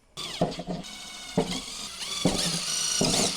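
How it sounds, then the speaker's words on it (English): A power drill boring small holes into the body of a 2022-or-later Subaru BRZ/Toyota GR86 to mount a carbon fiber wing: several close, loud bursts of whining motor, each starting with a grinding bite into the panel. "I'm gonna start drilling right now."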